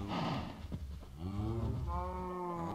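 Cows in the Minecraft video game give a drawn-out, low moo, with another brief lowing sound just before it, heard fairly quietly and without speech.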